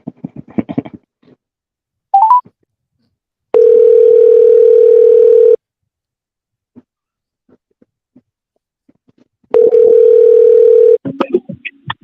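A telephone ringback tone sounds while an outgoing call waits to be answered: two long, steady, loud rings separated by a silent gap, with brief voices and clicks at the start and end.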